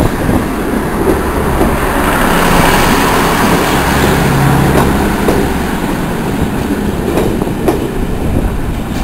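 A train pulls away from a station on a seaside trip to Sheringham, its steady rolling rumble and clickety-clack of wagons filling the scene for several seconds, fairly close and without talk.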